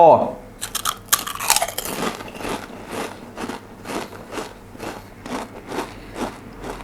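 Bites into original-flavour Pringles potato chips, a few sharp crisp crunches up close followed by a run of rhythmic chewing crackles, with a voice speaking briefly at the start.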